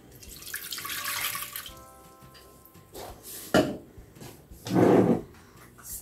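Kitchen tap water running into a sink while preparing to make sourdough bread, a steady hiss of flow at first, then clinks and handling noises, with two more short gushes of water later, close and moderately loud.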